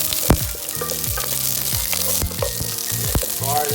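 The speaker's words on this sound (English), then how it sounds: "Let the garlic and onion, cook for maybe about a minute or 2." Garlic and onions frying in a pan, a close, steady sizzle broken by stirring scrapes and a few clacks.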